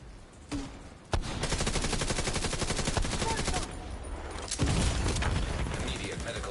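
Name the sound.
turret gunfire in The Division 2 video game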